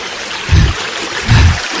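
River water flowing with a steady broadband rush, swelling twice into louder low surges as if washing over something, close and continuous with no talking.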